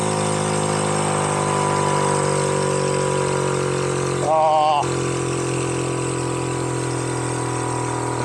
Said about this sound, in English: now, I've got to rev the bejesus out of it